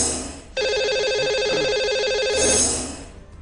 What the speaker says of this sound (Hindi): तो लगाते हैं इन्हें अब कॉल और कर लेते हैं इनसे भी बात